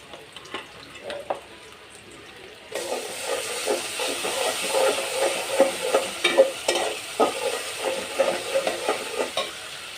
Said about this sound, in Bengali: এই যে একটু রসুন বাটা দিলাম।